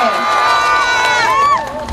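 A loud crowd at a Women's Day gathering cheers and whoops together, a sustained swell of voices rising and then tapering off, close and energetic.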